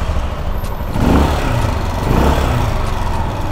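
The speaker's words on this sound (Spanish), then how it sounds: "la nueva moto para trabajar en Uber Eats, recomendada por el buen Rulas." A new motorcycle used for food delivery work idles nearby, a steady low engine rumble with an even, rough texture that swells slightly partway through, heard alone without talk.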